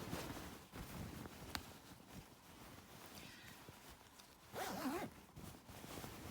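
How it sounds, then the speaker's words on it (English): A zipper on a sewn garment from a Vogue V9075 pattern is pulled up in one quick, close rasp near the end, after a stretch of soft fabric handling and rustling. "Just pull up your zip a little bit"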